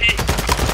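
Rapid automatic gunfire from the video game Call of Duty Modern Warfare II Warzone, a loud, close burst of repeated shots filling the short moment.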